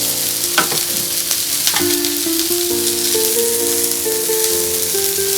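Fine mustard seeds sizzling in hot oil for a simple vegetable dish give a steady, close crackle, with a few stirring clicks and soft music in the background.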